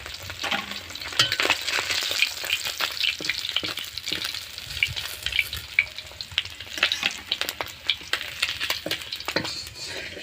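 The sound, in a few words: rohu fish frying in oil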